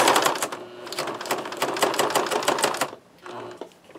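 A sewing machine stitches through paper in a fast, steady run of clicking needle strokes, pausing briefly before a shorter burst, close and alone.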